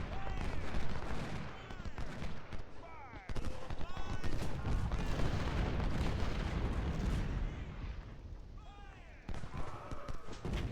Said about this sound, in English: One more volley into that gun.